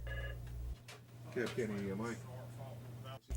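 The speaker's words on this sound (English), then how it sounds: "the phone is still ringing at the DeKalb County EMA headquarters" A telephone rings at the DeKalb County EMA headquarters in Alabama after the 2003 earthquake. A short electronic ring sounds at the start, then a voice talks over a low hum.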